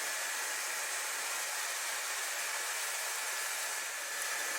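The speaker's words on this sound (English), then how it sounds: "Here I'm machining a recess on one of the plywood parts so that the lead screw can actually fit." CNC router machining a recess in a plywood part, a steady loud high-pitched whine with broadband hiss that holds unbroken throughout, with no voices.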